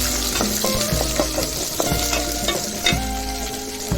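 Crushed small onions fry in oil with mustard seeds and curry leaves for bottle gourd sambar, a close, steady sizzle broken by repeated scraping stirs of a spoon in the pan, with no one talking.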